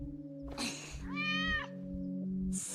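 An animated cat in the Chainsaw Man anime gives a couple of clear, close meows, one drawn out and wavering, over a steady low background tone.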